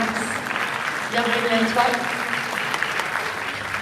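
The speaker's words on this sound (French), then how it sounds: "Applaudis Max." Audience clapping for Max at a paranormal fair talk, a dense burst of applause from a nearby crowd with a brief welcoming voice heard over it.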